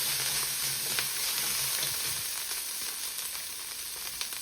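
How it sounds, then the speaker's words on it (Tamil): Onion and coconut sauté in sesame oil for a crab curry, making a soft, steady sizzle with light stirring scrapes that fade slightly toward the end. "இது எல்லாத்தையும் இப்போ நாங்கள் நல்ல வடிவாக அப்படி வதக்கி எடுப்போம்"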